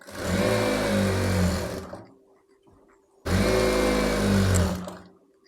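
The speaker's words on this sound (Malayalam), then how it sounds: "എന്നിട്ട് അതിന് ശേഷം വലിച്ച് ഇലാസ്റ്റിക്കിന് മുകളിൽ കൂടെ നമുക്ക് സ്റ്റിച്ച് കൊടുക്കാം" Sewing machine stitching over elastic on a baby's party skirt, two loud sustained motor runs separated by a brief pause, close and alone.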